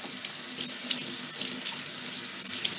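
Tap water runs steadily into a sink while synthetic wigs are rinsed in cool water, a close, continuous hiss and splash with faint shifts as the hair moves through the stream, no talking.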